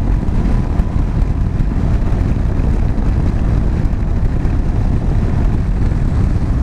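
A 2019 KTM 790 Adventure motorbike with the LC8c engine, ridden in sixth gear through corners: a loud, steady engine drone blended with heavy wind rush on the microphone, continuous and unbroken.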